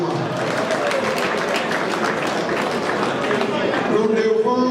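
A congress audience applauds hosts and hostesses, a dense, steady clapping that fills the whole stretch while a voice speaks over it.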